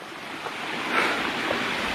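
A small mountain stream on Réunion island flows as a steady rushing wash, heard outdoors with wind buffeting the microphone and no talking.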